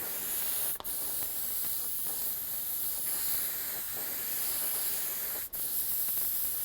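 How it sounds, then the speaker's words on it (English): Steady airbrush hiss sprays candy red paint continuously, with two brief pauses where the flow cuts off for an instant, close and even. "So I'm going to spray this on top."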